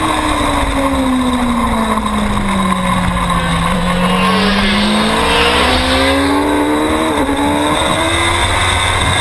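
Superstock racing motorcycles scream past on a race track, their engines loud and near. High-revving whines sweep down and then climb back up as the bikes go by.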